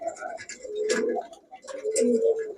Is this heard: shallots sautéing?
no